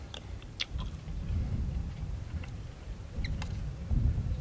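Soft, irregular crunching and chewing of dehydrated chili close to the mic, with faint clicks scattered over a low, steady background.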